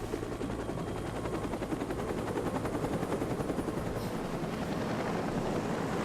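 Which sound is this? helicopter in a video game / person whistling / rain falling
helicopter in a video game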